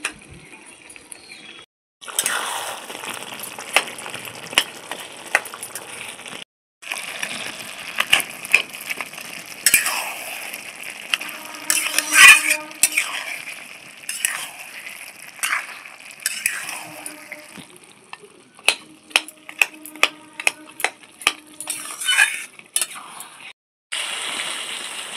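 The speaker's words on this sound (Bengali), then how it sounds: "মাছের মাথাগুলো একটু ভেঙে দিচ্ছি" Cooked fish heads are broken apart in a pan with a spatula, giving scattered sharp clicks, scrapes and crunchy taps, irregular and close, with brief silent gaps and a faint sizzle beneath.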